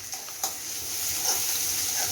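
Grated ginger hits hot oil in a pan for Punjabi baingan bharta, giving a steady, fairly soft sizzle with a couple of brief stirring clicks near the start.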